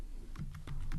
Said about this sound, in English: I'm gonna type here